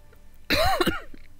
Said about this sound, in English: Oh, I'm really sorry for the coughing.